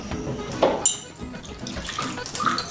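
Liquor poured into a glass, a brief close splashing trickle that swells and fades in a couple of seconds, with faint clinks in a quiet room.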